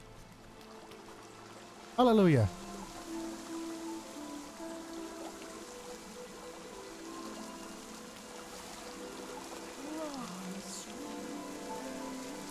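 A waterfall in the video game Rime rushes in a steady, even wash. A sharp sung cry cuts in near the start, and a voice speaks briefly over the water.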